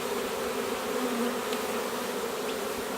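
Honeybees hum steadily around an open hive during an inspection, a dense, continuous buzz close by with an occasional louder bee passing near, no talk.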